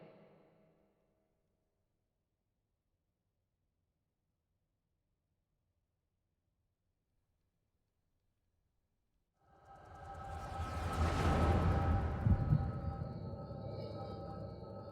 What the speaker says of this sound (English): That was the echo noise.